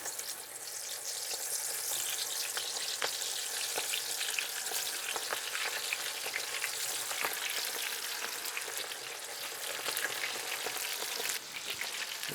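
Prawns deep-frying in hot oil, a bright, steady crackling sizzle with scattered sharp pops, fairly close and continuous throughout, with no talking.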